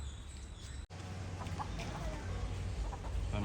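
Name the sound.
chickens clucking in garden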